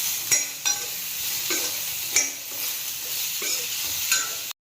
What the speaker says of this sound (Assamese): এইখিনি গোটেইখিনি মিক্স কৰি ল'ম, অলপ ভাজি ল'ম।